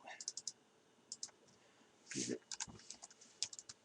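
A computer keyboard is typed on in short bursts of quick, close clicks, with a few spoken words mixed in partway through.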